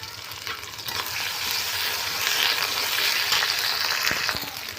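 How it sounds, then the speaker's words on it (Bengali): Ginger and cumin paste with chopped carrot frying in a pan for moong dal khichuri, a steady close hissing sizzle with occasional soft scrapes and taps of a stirring spoon. "এরপর আমি যে আদা বাটা, জিরে বাটা এর মধ্যে দিয়ে একটু নেড়ে চেড়ে নেব"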